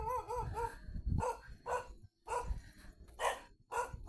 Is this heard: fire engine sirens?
no